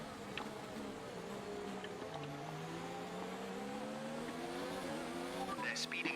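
F1 car engines in the F1 2019 racing game, a Mercedes Silver Arrows car at the Hungarian Grand Prix during Perez's clean overtake: sustained rising and shifting engine whine from several cars, steady and fairly loud throughout, with brief tire noise near the end.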